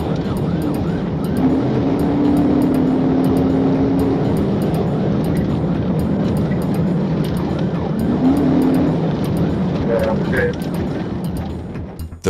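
Police car in highway pursuit of a Nissan Altima, a steady loud road and engine roar with mechanical rattles and clicks inside the vehicle and brief tonal sweeps, continuous throughout.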